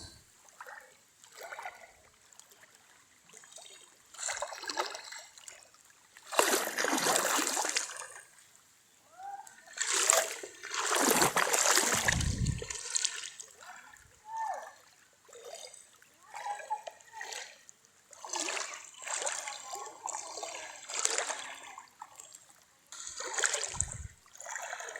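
Water splashes and sloshes in repeated bursts close by as someone wades through waist-deep floodwater in a village road, with quieter trickling between the surges.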